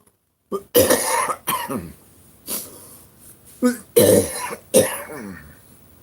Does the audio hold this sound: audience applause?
no